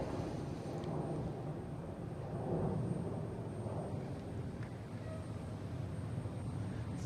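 A JetBlue Airbus A320 airliner, about 18 years old, rumbles at Boston Logan International Airport as a steady, distant low roar of jet engines that swells slightly midway, with no talking.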